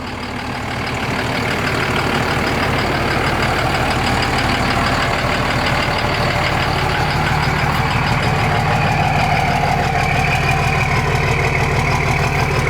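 A Cummins-swapped Ford F-series diesel truck on a 12 valve race tune idles up close, a loud, rough, steady knocking rumble that swells at the start and then holds without any voices.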